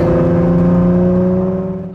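A 2017 Ford GT supercar on the road gives a loud, steady engine drone with a strong low hum, which fades at the end of the two-second clip.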